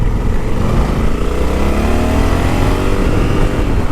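A Honda Africa Twin DCT motorcycle engine runs loud and close, a continuous rough drone whose pitch rises gradually as it revs, heard alone without talk.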